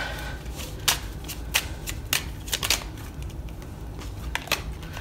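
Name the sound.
shuffling tarot cards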